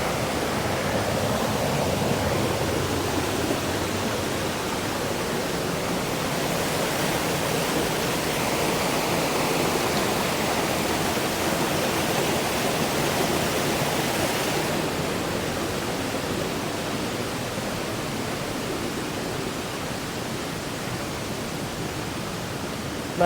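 Heavy river water at Hogenakkal pours over the waterfalls, a dense, continuous roar of rushing water that stays steady and loud throughout with no voices.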